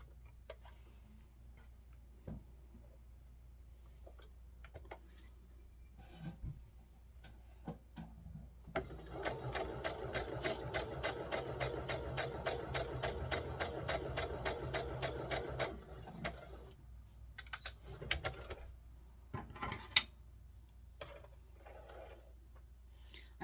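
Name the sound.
sewing machine stitching dress shoulder seams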